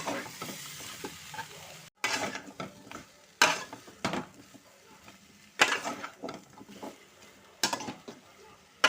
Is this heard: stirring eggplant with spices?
yes